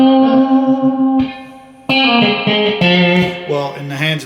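An electric guitar plays a few clean notes and chords through a spring reverb, drenched in a wet, springy reverb that trails off between strums.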